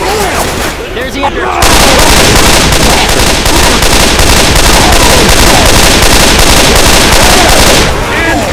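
Loud, continuous rapid gunfire pours out during a balloon ride, a dense sustained burst aimed at a target that runs for several seconds before cutting off.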